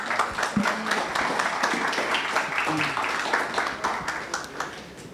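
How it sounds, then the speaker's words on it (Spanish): Conference audience applauding a doctor after his introduction as speaker on asphalt mixtures, steady clapping through the whole stretch with scattered voices murmuring underneath. "Pido un aplauso para el doctor."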